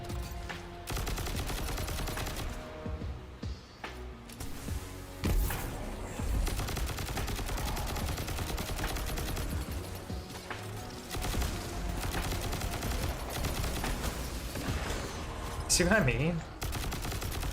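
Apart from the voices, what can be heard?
gunfire rounds in video game Destiny 2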